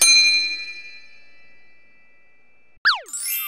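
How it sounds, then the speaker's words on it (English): A bright bell-like ding sounds once as a short notification chime, ringing with a long fading tone, then a quick springy boing follows. "do not forget to press the bell icon"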